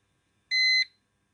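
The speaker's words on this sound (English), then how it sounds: "Beep every now and then." A single short electronic warning beep from a Power Walker Basic STL 1000 home UPS, steady and fairly loud, rings out once against near silence.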